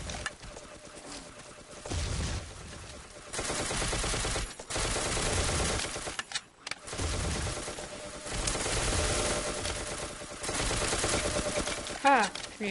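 Automatic gunfire from zombie-shooting gameplay in Ace of Spades comes in long dense bursts separated by brief pauses, loud and sustained, with a voice talking between volleys.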